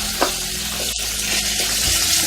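Onion softening in a hot pan gives a steady, close sizzle throughout, with a few faint stirring scrapes and no talk.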